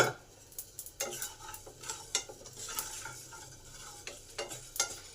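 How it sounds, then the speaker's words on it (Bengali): Whole spices dry-roasting in a pan for a Bengali pumpkin, drumstick and potato dish, giving close, fairly loud crackles and pops in an irregular patter with a few sharper snaps, no voices. "এই যে চড়বড় করে আওয়াজ হচ্ছে এটাতেই বুঝে নিতে হবে মশলাগুলো আমার ভাজা হয়ে গেছে।"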